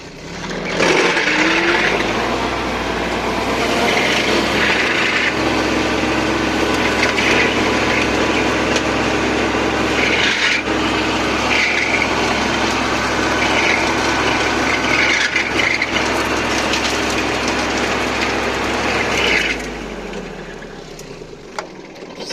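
A Mateng NEFL 95 mulcher shredding wood, a loud continuous grinding roar with splintering crunches over a tractor's steady drone, ending as it winds down.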